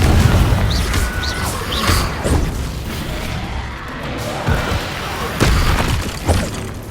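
Confringo explosive spell in the Hogwarts Legacy game, Horntail Hall: a series of crashing, shattering impacts and booms over a dense, noisy battle ambience, with several sharp hits spread through the clip and a shouted voice.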